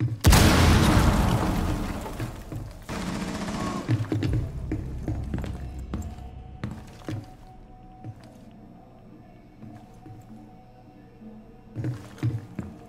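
Breaching charge detonating in a tactical shooter game, one loud booming blast at the start that rolls off into rumbling debris, followed by scattered thuds and clatter fading into quieter ambience.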